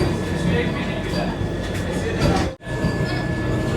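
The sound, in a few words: Puri–Howrah Vande Bharat Express train departing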